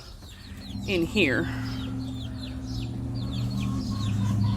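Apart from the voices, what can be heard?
chicks clucking in a garden pen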